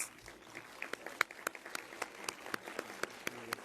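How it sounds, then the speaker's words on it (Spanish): Audience at a student education forum applauding, with scattered individual claps standing out over a soft, steady patter of applause. "Un aplauso para ustedes."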